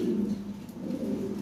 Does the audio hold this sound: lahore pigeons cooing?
yes